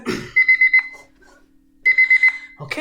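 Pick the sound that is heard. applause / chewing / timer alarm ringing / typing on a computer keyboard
timer alarm ringing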